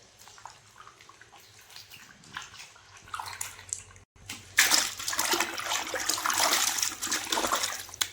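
Water splashes and sloshes as grated potato chips are rinsed for a homemade batch, quiet trickles and dribbles at first, then a louder continuous splashing after a brief pause.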